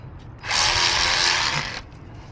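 Removing 10 mm bolts from the transmission filter of a 2008 Honda Fit, with one loud, close burst of a power tool whirring for about a second and a half, then quiet again.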